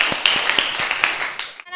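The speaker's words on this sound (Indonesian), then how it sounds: "tepuk tangan untuk kelompoknya Ayu" A classroom of children claps for a presenting student group, a quick series of sharp, close hand claps with a few louder strikes standing out before the sound cuts off.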